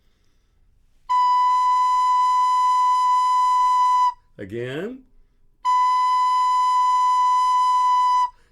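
Two steady, pure recorder notes on B, each held about three seconds, separated by a brief spoken word in between.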